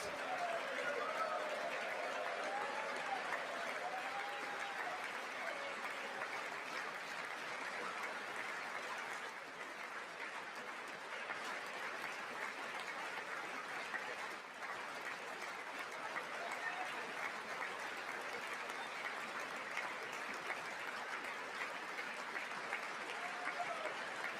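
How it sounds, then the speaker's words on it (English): Steady chamber applause fills the hall during a State of the Union address, a continuous, moderately distant wash of many hands clapping with faint murmuring underneath. "Henry Cuellar clapping like a clown because Trump pardoned him for bribery and corruption."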